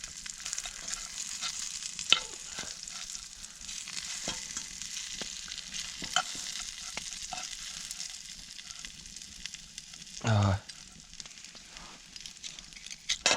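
Bacon and onions fry in a pan at a cold-weather bushcraft camp, a steady close sizzle and crackle with scattered pops and a brief louder scrape or stir partway through.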